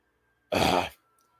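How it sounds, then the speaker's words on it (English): A single short, throaty cough, close and fairly loud, with silence before and after. "He coughs."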